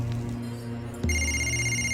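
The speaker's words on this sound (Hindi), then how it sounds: "आपका फोन है" A telephone rings with a steady electronic bell tone that gets louder and brighter halfway through, standing alone with no talk over it.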